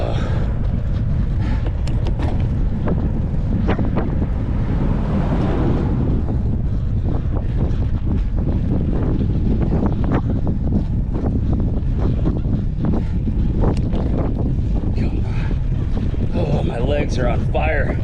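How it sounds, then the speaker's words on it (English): Strong wind buffets the microphone on a bike trail, a loud, constant roar that never lets up, with a voice faintly under it. "This wind is the last couple days has been crazy."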